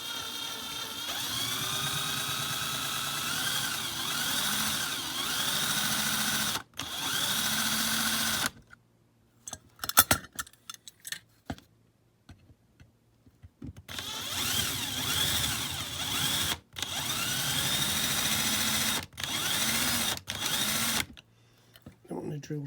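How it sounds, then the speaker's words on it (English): Loud electric drill whirring in repeated bursts of several seconds each, pitch sagging as it bites into metal rivets on a Dinky No. 253 Daimler Ambulance diecast model, with short pauses and clinks between runs. "Don't want to drill too much there."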